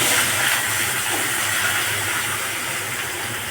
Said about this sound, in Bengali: এবার সবজিগুলো আস্তে আস্তে তেলের ভিতরে ছেড়ে দেওয়া হচ্ছে